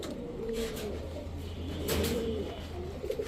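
A male Sapchila pigeon and others coo in low, soft, continuous murmurs at close range, with brief noisy bursts and a steady background hum.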